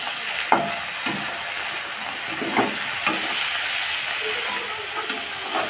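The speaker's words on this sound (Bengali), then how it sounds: "বেগুনটা এখন কড়াইতে দিলাম, দিয়ে বেগুনটা ভেজে নিচ্ছি" Eggplant frying in oil in a wok, a steady close sizzle and hiss running throughout, broken by several soft scraping knocks as the pieces are stirred and turned.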